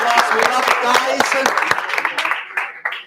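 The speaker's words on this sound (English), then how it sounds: "A round of applause." A round of applause at an incubator program's graduation party, dense clapping from a crowd filling the moment, loud and steady before tapering off, with voices mixed in.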